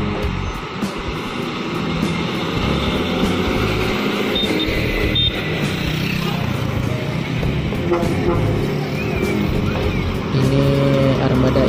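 An Armada Indah bus rumbles steadily along a congested road in Aceh, engine drone continuous and fairly loud with traffic noise around it.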